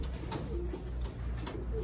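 Tabshiri pigeons coo softly in a loft, with low repeated murmuring calls against a steady background hum and no talk.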